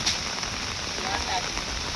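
Heavy rain falls in a dense, steady hiss that fills the whole clip, loud and continuous beside a highway, with no distinct voices over it.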